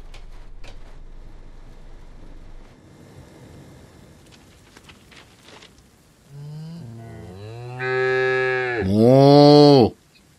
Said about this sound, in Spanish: Siento lo de mis vacas.